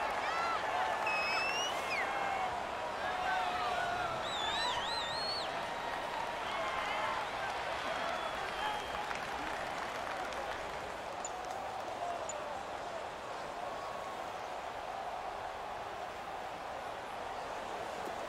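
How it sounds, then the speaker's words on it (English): Steady stadium crowd roar from an American football video game played in a domed stadium, a continuous loud wash with faint whistles and cheers rising and falling throughout. "The crowd here in the Dome making things difficult."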